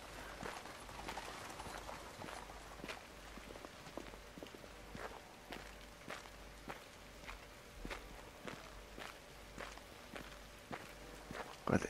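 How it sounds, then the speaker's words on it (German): Heavy footsteps of a character stomping around in the video game The Order: 1886, a steady run of distinct thuds about every half second, moderately close, with no talk over them. "der trampelt hier rum und die hören das nicht"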